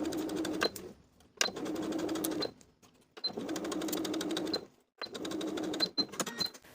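A sewing machine bastes the raw edges of a fabric cuff. It runs close and steady in four bursts of whirring stitching, each separated by brief pauses and clicks.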